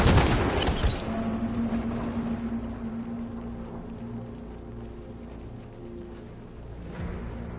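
Gunfire on protesters in the Detroit Become Human video game, a loud burst of rapid shots in the first second, then a low rumbling aftermath with a faint hum.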